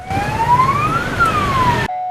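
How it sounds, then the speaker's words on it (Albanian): A police vehicle's siren wails loudly, rising and then falling in pitch in one sweep, as the vehicle speeds off toward a police station, before cutting off abruptly. "Me shpejtësi e me siren nisen drejt komisariatit."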